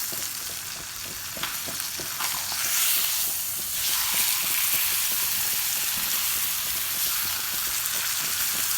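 Pot roast meat seasoned with Montreal steak seasoning sears in a hot pan just after being flipped, a steady loud sizzle and hiss with light stirring scrapes throughout.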